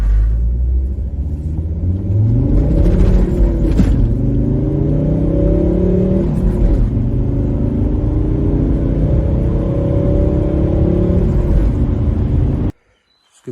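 A car drives and shifts gears, heard from inside as a loud steady engine rumble whose pitch climbs and drops with each gear change, cutting off abruptly at the end.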